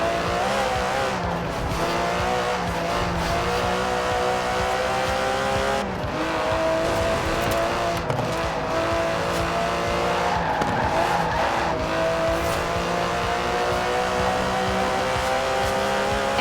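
Aston Martin DB11 with a 5.2-litre twin-turbo V12 driving in Forza Horizon 4, a steady loud engine drone with shifting revs and occasional tire squeal throughout, no talk.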